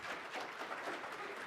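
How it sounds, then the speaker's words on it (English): Brief, faint burst of audience applause at a tech conference welcoming a presenter to the stage, distant and steady with no talk. "Let's give him a round of applause"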